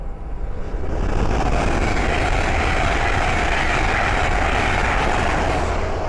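Hull Trains class 801 passenger unit 801 205 passing on the East Coast Main Line at Great Wymondley, bound from Leeds to King's Cross; a loud, steady broadband roar that swells within the first second and holds close throughout.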